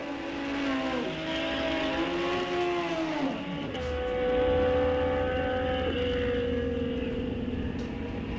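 A bike sled drag racing vehicle runs down the track in round 2 of a Sunoco Race Fuels ET Series event, its engine revving in rising pitch sweeps with shifts, heard from a moderate distance.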